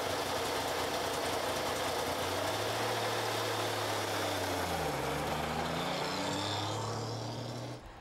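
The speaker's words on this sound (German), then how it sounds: "Wie bei einigen Wartburg-Modellen kam auch hier ein Dreizylinder-Zweitaktmotor zum Einsatz." A Barkas B1000 van's three-cylinder two-stroke engine runs steadily and loudly throughout, with a buzzy drone whose pitch shifts up and down midway before easing slightly at the end.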